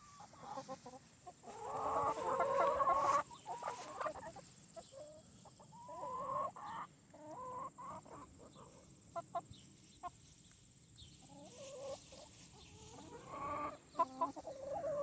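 Chickens clucking and murmuring nearby on a farm, soft irregular calls rising and falling over a quiet outdoor background, with a few sharp knocks.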